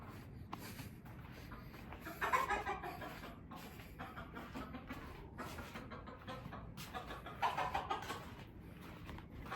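Purebred Texas chickens in a backyard farm cluck softly off and on, with a few louder squawks rising over a low, steady outdoor background and no talking.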